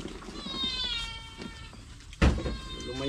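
A cat meows several times in a drawn-out, wavering way at close range indoors during a family meal, with a sharp knock partway through.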